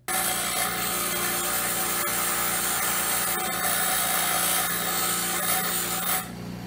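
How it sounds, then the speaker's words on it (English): A round metal part for a steampunk knuckleduster spike is ground flat, giving a continuous loud, close, harsh grinding that runs steadily for several seconds before easing off at the end. "I'm going to grind up here and make this round part a little more flat so it fits the bullet a lot nicer"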